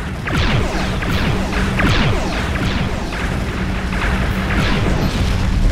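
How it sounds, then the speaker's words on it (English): A Romulan starship blowing up in the Star Trek Legacy space combat game, a continuous loud rumbling blast with repeated booming bursts layered over one another. "Romulan vessel destroyed."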